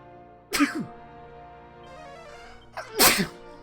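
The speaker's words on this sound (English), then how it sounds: "I need to sneeze." Two sneezes ring out close by, separated by a couple of seconds of near silence, the second louder and sharper than the first.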